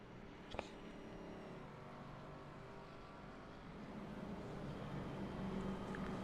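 Race car engines drone in an ARCA series racing video game as a car pulls off pit road, a continuous mechanical hum that slowly grows louder toward the end, with a single click near the start.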